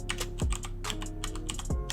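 Fast keystrokes on a computer keyboard typing out a project title, a dense run of crisp clicks with a low background hum and no speech.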